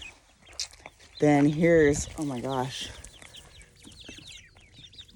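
Farm chickens cluck in a backyard with ducks and freshly hatched chicks nearby, a burst of loud clucking calls in the middle while someone talks over and around them.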